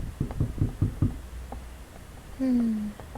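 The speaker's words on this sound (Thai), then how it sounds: "ได้ยินเสียงเหมือนใครเคาะประตู" A series of about five quick, hollow knocks on a door in the Roblox horror game Doors, close and distinct, followed by a single softer knock and a short tonal game sound.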